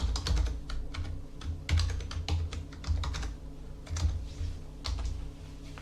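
Typing on a computer keyboard to enter a username and password for an online database login, with a steady run of clicking keystrokes over a low hum and no voices.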